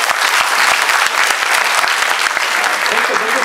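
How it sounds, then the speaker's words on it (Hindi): Dense, continuous audience applause fills the hall after a staged Kumaoni-language play at Pyare Lal Bhawan, ITO, many hands clapping loudly and evenly from start to finish. "तालियां।"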